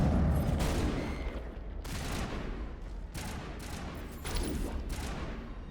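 Gunfire in Mass Effect Legendary Edition during a firefight, sharp repeated bursts of shots spaced about a second apart, moderately loud over a steady background of combat noise.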